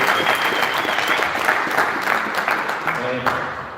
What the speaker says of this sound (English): So if you all give yourselves a round of applause for coming out and giving these hunt lads the time